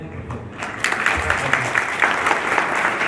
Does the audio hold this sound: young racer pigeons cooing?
no